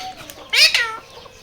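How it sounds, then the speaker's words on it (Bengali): A single short, bright bird call rises sharply over a quiet background, close by and brief, like a hen's cluck. "লেয়ার মুরগি"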